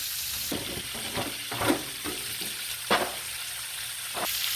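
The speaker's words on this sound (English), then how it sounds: "So we're gonna add our peppers, our onion, our zucchini, and our garlic." Peppers, onion, zucchini and garlic sizzle in a hot stir-fry pan for a chicken and vegetable stir-fry, a steady crackle punctuated by repeated scraping strokes and clinks of the spatula against the pan.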